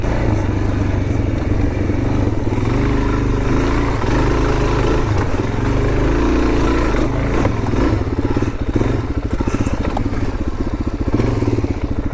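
A Suzuki DRZ400 dual sport motorcycle riding trails on mining land, its single-cylinder engine droning loud and close throughout with rough clatter and thumps as it rolls over uneven ground.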